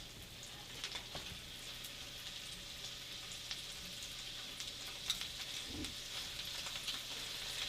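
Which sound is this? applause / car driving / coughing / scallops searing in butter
scallops searing in butter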